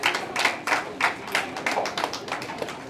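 Scattered clapping from a small audience at an Ayurveda Day award function, a handful of distinct, fairly rhythmic hand claps, close and moderately loud, thinning slightly toward the end.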